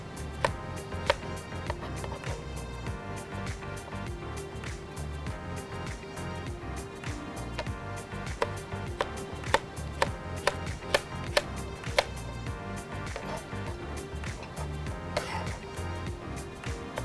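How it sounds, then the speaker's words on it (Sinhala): A knife cutting okra into cubes on a board, steady rapid taps running throughout, with background music playing underneath. "පළමුව බණ්ඩක්ක මේ ආකාරයට කැට හැඩෙන්න කපා ගන්න."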